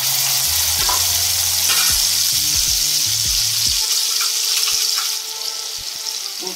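Onion paste dropped into hot oil in a wok for a Bengali fish curry, a loud close sizzle with scraping stirs that quiets toward the end, with no talk.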